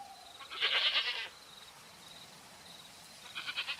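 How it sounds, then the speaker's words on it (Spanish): Goats bleat nervously in two bursts, one longer cry and then a shorter one near the end, fairly close and with no voices. "roto únicamente por los balidos nerviosos de las cabras que aún habían sobrevivido a aquel ataque"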